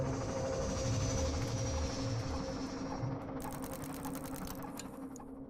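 Busy ambience inside the Gare d'Austerlitz train station in Paris: a steady, loud rumbling hum of machinery and crowd noise, with rapid mechanical ticking joining partway through. No one speaks.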